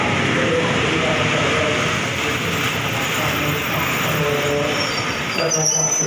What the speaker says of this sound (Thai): ขบวนรถที่เข้าที่ชายชาลาสถานีจะเป็นขบวนรถธรรมดาเที่ยวรอบขบวนที่สองหนึ่งสอง ปลายทางสถานีกรุงเทพ